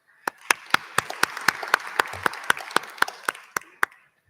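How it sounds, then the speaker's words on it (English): An audience at the 2023 BRICS Urbanisation Forum in South Africa gives a round of applause for Brazil's Minister of Cities: a brief, fairly quiet burst of evenly paced claps over a soft bed of scattered clapping, trailing off after about four seconds. "I think another round of applause will be appropriate."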